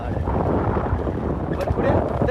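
Steady rushing wind buffeting the microphone outdoors, a constant low roar with faint voices mixed in.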